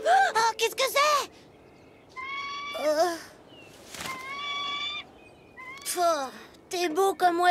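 A cartoon bird gives a series of bright, warbling chirps and whistling calls in short bursts across several seconds, close and clear, with brief pauses between phrases.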